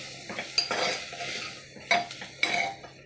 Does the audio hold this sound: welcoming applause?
no